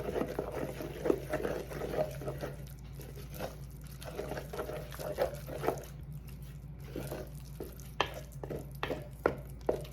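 A spoon stirs and scrapes flour and liquid together in a bowl while making bread dough, giving soft, irregular wet slaps and clicks at close range over a low background hum.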